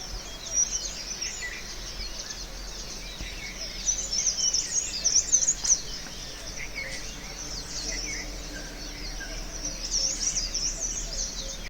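Birds chirp and twitter in steady, overlapping morning bursts outdoors in the mountains near Gangotri, fairly faint, with a soft insect-like hum underneath and no talking.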